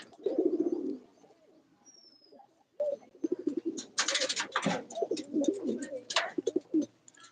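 Morning pigeons cooing near a home loft, with a pale white male among the flock; soft low coos come in bursts, mixed with sharper chirps from other birds at close range.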